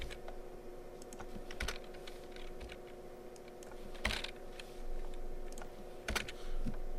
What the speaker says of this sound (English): all you have to do is go ahead and type in your different answers